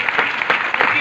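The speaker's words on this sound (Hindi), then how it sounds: "जोरदार तालियां" A church congregation breaks into a brief burst of loud clapping, close and uneven, lasting about a second.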